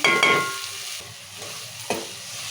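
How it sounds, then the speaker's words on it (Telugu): Tomatoes cooking in oil in a village-style chicken curry, with a soft sizzle and a few scraping stirs of the pan early on and again near the end. No one talks. "ఇలా టమాటాలు కూడా మంచిగా ఇట్లా నూనెలు ఉడికినాయి"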